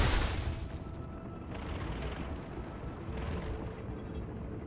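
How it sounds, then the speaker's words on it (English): Heavy artillery shell blast in the top-down mech combat game Brigador, a loud broadband boom at the start that decays into a sustained low rumble. "Dear grid coordinates, I hope this artillery shell finds you well."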